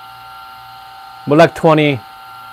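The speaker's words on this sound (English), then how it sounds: "whenever I'm going down grind size, I like to run the grinder" A Turin DF64 coffee grinder hums with a steady whine while its grind size is adjusted, running continuously beneath a man's brief speech.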